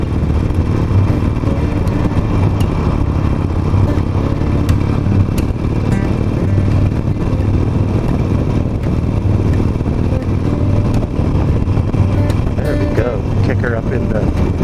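A Harley-Davidson Nightster 5-speed motorcycle revving high in third gear while climbing a slight hill: a loud, steady engine drone with wind rush throughout, close and continuous.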